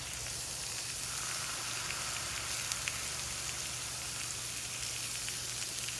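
Sauces boiling and sizzling steadily in a pan beside grilled vegetables, duck breast and picanha, a constant close hiss and crackle with no talk.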